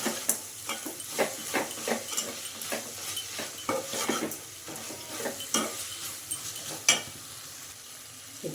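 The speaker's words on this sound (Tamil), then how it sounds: "நல்லா வதங்கிடுச்சு." Vegetables for potato poori masala sizzle and sauté in a pan, with repeated scraping stirs and soft clinks of a utensil against the pan, no voices.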